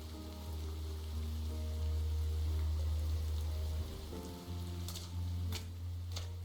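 Soft, steady rain falls on the alleys in the video game Behind the Frames, a quiet continuous patter beneath gentle melodic background music, with a few brief brighter taps near the end.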